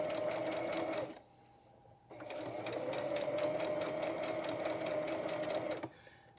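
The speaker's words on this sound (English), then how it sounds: "All right, here we go with some stitching" A sewing machine stitches lace close up, with a brief burst of steady mechanical whirring, a short pause, then a longer even run of stitching before it stops.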